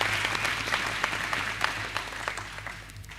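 A round of applause from the audience at a high school speech night and Grade 12 prize giving. Dense, steady clapping from a crowd, even in loudness throughout.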